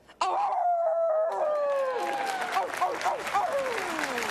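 At the 2021 Oscars ceremony, an actress imitates a wolf howl, a long wavering call sliding downward that is soon joined by applause and cheering from the crowd.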